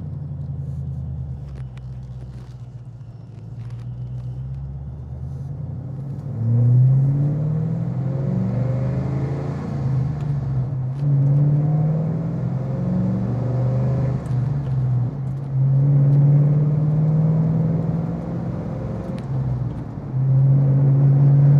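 A custom 2007 Ford Mustang GT V8 pulls away and runs through a couple of gears: a low rumbling idle, then repeated climbing revs that drop at each shift, loud and close, with no talk.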